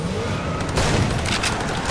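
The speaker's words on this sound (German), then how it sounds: "Die schießen doch echt durch den Hügel durch." Enemy gunfire in the video game Far Cry 2, a dense, steady clatter of shots and booms continuing throughout without pause, fairly loud with no talking over it.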